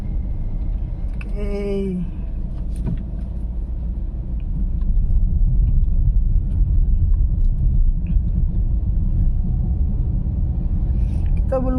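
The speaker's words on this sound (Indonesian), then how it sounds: "udah jalan, masuk gigi 1, angkat perlahan-lahan, tambah gas sedikit, udah gigi 2" A car with a manual gearbox pulls away in first gear and shifts into second, its low engine rumble swelling and holding steady as it drives slowly through a narrow alley, while someone talks over it.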